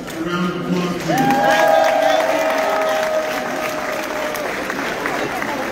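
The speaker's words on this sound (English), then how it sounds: "If we can please give the Columbia Business School students a round of applause, please" Audience at a New York event clapping for Columbia Business School students, steady crowd applause with a tonal whistle or squeal sliding across the middle, voices mixed in.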